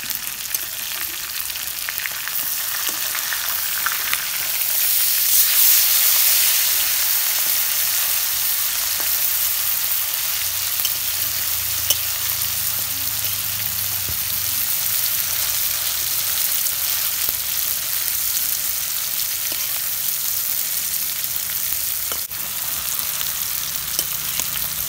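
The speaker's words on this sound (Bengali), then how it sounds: "আজকে আমাদের বাড়িতে চিকেন ফ্রাই রান্না হইতেছে" Chicken fry sizzles steadily in a hot pan, a continuous close crackling hiss that runs the whole time with slight swells and no talking.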